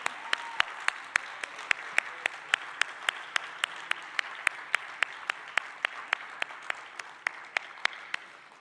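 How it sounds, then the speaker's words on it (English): At the ICAN 2025 closing ceremony, applause follows a singer's performance as a string of crisp, evenly spaced hand claps, about three per second. They sound fairly faint and distant over a low murmur of room noise. "Let's give him a big round of applause."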